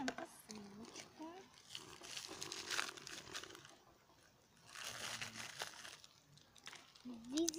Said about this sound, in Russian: Открываем посылочку.